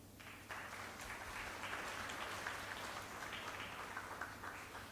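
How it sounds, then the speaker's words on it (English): A seminar audience gives steady, evenly textured applause for its speakers, faint and somewhat distant, sustained without a break over a low background hum. "let's once again give a big round of applause for our incredible speakers"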